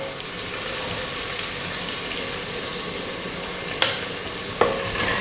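Sliced onions sauté in a pan for chicken biryani cooked in a pressure cooker, giving a steady, even sizzle with a few sharp scrapes of stirring near the end, and no voices.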